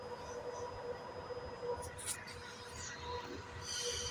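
Moscow metro train running along the Troitskaya line, a steady rumble of wheels and car noise with a faint high squeal, heard from inside over constant background din.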